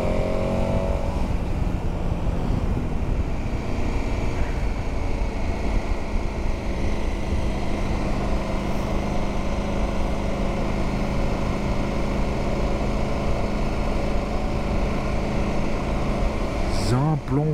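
A 2021 KTM 1290 Super Adventure S motorcycle engine drones loudly and steadily on the Simplon Pass in Switzerland, with wind rush over it and a rider talking at times.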